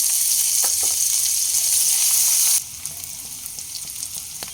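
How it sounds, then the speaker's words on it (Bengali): Chopped onion frying in hot mustard oil with nigella seeds, a loud, bright sizzling hiss that suddenly drops to a quieter crackle partway through, with faint stirring taps. "পেঁয়াজের কালার চেঞ্জ হয়ে আসা পর্যন্ত ভেজে নিয়েছি"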